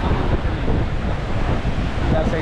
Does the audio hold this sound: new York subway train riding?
no